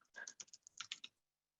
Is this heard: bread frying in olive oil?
no